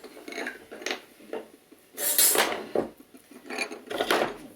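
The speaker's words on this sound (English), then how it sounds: "All right, so we'll saw that off." A hand saw cuts through a pine board in short, rasping strokes, with irregular bursts of scraping and brief pauses between passes, close and fairly quiet.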